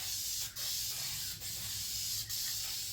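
Spray paint hisses from an aerosol can in light coats over Honda Ridgeline taillights, a steady close spray with brief dips between passes.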